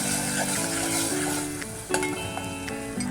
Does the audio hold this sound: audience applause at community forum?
no